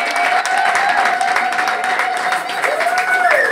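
A church congregation at a pastor's consecration applauds in continuous, dense clapping that fills the room, with cheering voices and a sustained tone running through it.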